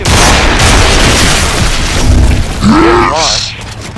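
A grenade explosion in the Gears of War video game booms loudly, its heavy blast ringing out before a brief rising tone, with players' voices mixed in underneath.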